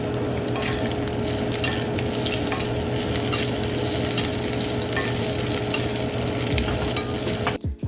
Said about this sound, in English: Now sear both sides and cook to your desired temperature.